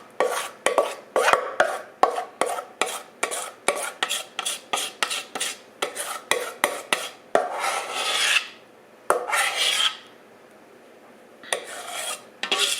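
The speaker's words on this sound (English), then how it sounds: "I'm going to scrape all the rest of this out of this pan, get it into this brownie pan" A utensil scrapes chocolate chip brownie batter out of a mixing pan into a brownie pan, making a fast series of close, rasping strokes that slow into longer drags near the end, with no voices.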